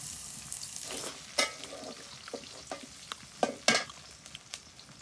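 Garlic, green chili and onion frying in oil, a soft continuous sizzle broken by sharp scraping stirs and clatter at irregular intervals, close and unaccompanied by talk.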